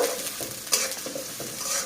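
Onion and green chilies fry in oil in a pan, a steady close sizzle with light stirring scrapes and a small clatter.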